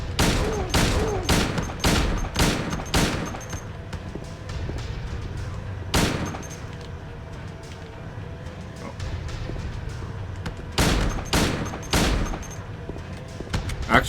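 Handgun fire in Silent Hill 2: sharp, loud single shots in quick bursts, a rapid string at the start, a lone shot in the middle and another cluster later, over a low ambient background.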